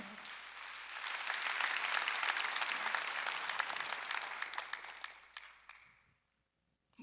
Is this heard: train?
no